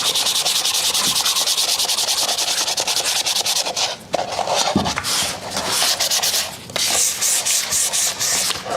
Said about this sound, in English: Sometimes it takes me longer to sand it than it does to paint it.